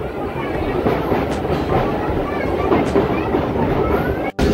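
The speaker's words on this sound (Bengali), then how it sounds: "আমাদের ট্রেন চলে এসেছে সেবক স্টেশন" A train pulls into Sevoke station in the hills of North Bengal, heard from on board as a steady, loud rolling rumble with faint wheel clatter, cut short by a brief dropout near the end.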